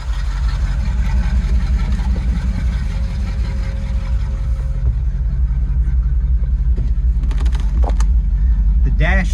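A 1989 Chevy Blazer with a rebuilt, performance-upgraded motor drives along, its engine a steady low rumble heard from inside the cab, with short whines and rattles near the end.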